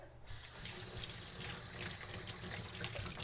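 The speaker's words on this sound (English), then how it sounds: "Let me just rinse my hands real quickly." Running kitchen tap water splashing over hands being rinsed, a steady close rush of water that stays even throughout, with no talking.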